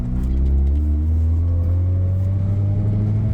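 An abandoned Honda CRX engine idles with a steady low rumble and a slowly rising whine, running unevenly with a faint stumbling roughness as it misfires, close and alone without voices.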